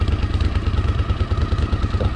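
A Honda CX500 motorcycle engine idling close up after idle adjustment, a loud rapid even chugging pulse running steadily throughout.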